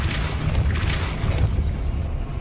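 A Depulso force spell in Hogwarts Legacy releases a dull booming blast with rushing bursts, loud at first and slowly thinning out over a couple of seconds.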